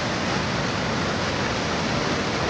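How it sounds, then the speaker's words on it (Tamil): Fast-flowing river water rushes near Top Falls at Kannupullimettu, a dense, unbroken roar of churning water that stays loud and even from start to finish. "தண்ணி எவ்வளோ ஃபாஸ்ட்டாக போகுது நீங்களே பாருங்கள்."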